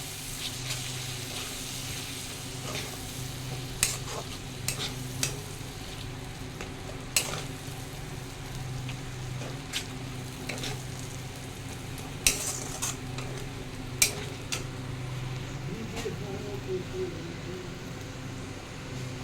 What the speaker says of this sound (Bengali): কষাই ভালো করে তারপর আসছি মশলা থেকে তেল ছাড়ছে